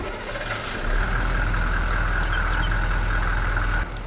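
A truck engine runs in Farming Simulator, a steady mid-pitched idle hum that swells after a second and holds evenly before cutting off near the end, with no talk.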